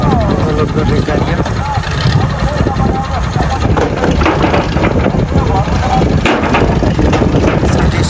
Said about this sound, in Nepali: यहाँ ट्र्याक्टरमा यति बेला ढुङ्गा लोड काम गर्नु छ